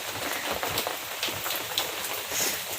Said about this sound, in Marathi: आणि आज पाऊस भरपूर आहे. हे बघा ना किती पाऊस आहे.